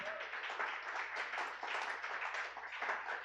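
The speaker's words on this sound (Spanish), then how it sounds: "Dele fuerte el aplauso a Dios." Congregation in a church applauding loudly and steadily throughout, a dense wash of many hands clapping with a faint low hum beneath.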